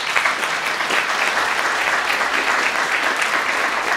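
An audience at a homecoming celebration for the Portlaoise Plane applauds in steady, loud, dense clapping from start to finish, with no voices over it.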